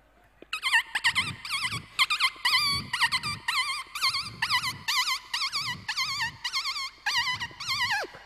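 A human voice imitates a puppy's cries: about a dozen high, squeaky, whining yelps in quick succession, close and fairly loud, with short gaps between them.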